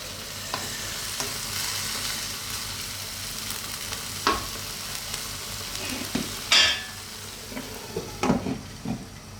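Bitter gourd (ampalaya) with corned beef sizzles steadily in a pan, a close, constant frying hiss broken by a few scattered utensil clinks and scrapes, with no talking.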